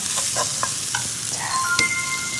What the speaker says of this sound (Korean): 골고루 섞어주세요.